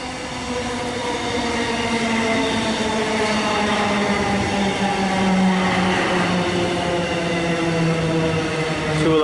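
A Mernda line train arrives at Keon Park station in Melbourne in the rain, rumbling steadily close by, with a low hum of wheels and motors and a faint metallic squeal as it slows.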